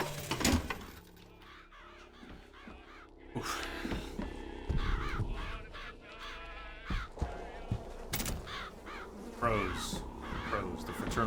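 Crows cawing in BioShock Infinite, several harsh repeated caws scattered through the clip over game ambience and music, some loud and close, others fainter, with speech-like murmur in the background.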